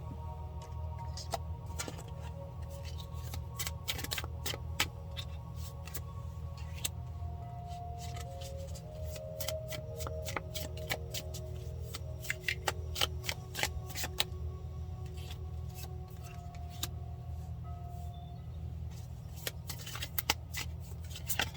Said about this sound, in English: And I am pulling these cards because I am not feeling that.